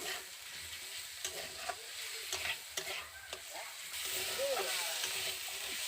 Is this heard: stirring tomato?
yes